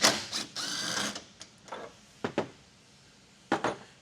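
A ratchet loosens T55 Torx bed bolts on a 2024 Toyota Tacoma, with a longer burst of fast clicking followed by short separate ratcheting clicks and clanks, close and fairly quiet.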